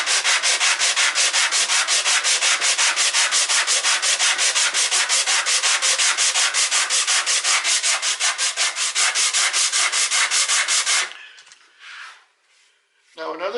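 Rapid rhythmic strokes of sandpaper across the grain of wood on a guitar build, loud and close, a steady back-and-forth rasp for about eleven seconds before stopping, followed by faint handling noises.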